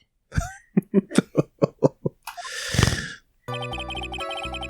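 A character in the Ace Attorney: Justice For All video game gives a rapid run of short coughs, then a longer raspy burst, before game music starts.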